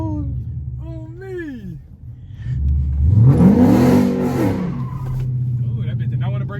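A Chrysler 300 with a 5.7 HEMI engine launches, its engine revving up hard in a loud, rising roar close by and then holding a rumbling drone, with people talking and exclaiming before and around it.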